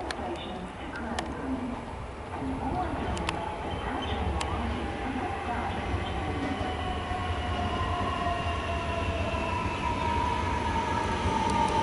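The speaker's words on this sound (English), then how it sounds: "And yes, it is a high-capacity train" A high-capacity Melbourne suburban train rolls steadily through Springvale with a continuous rumble and wheel noise, a faint squeal rising above the rumble, loud and close.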